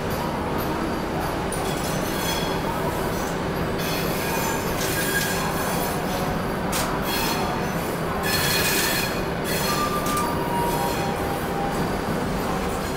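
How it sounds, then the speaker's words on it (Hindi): A passenger train pulls out of Prayagraj Junction, with continuous rolling rumble, metallic wheel squeal and intermittent clatter heard from on board, steady and moderately loud with no talking. "हमारा डिपार्चर फाइनली प्रयागराज जंक्शन से हो चुका है दोस्तों"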